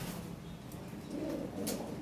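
European Lahori pigeons on a farm give low, soft cooing calls, close by, over a steady background hum with faint chirps.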